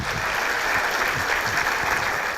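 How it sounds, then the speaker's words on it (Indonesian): Studio audience on a talk show claps steadily, a dense wash of applause filling the room without pause, a few louder individual claps standing out near the front. "Iya tepuk tangan boleh."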